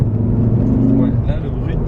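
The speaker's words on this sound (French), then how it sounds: "on entend là le bruit là que tu nous disais tout à l'heure qui vient du moteur" A Ford Focus ST Mk2 is driven, its engine giving a low, steady droning hum heard from inside the car, with a voice speaking over it.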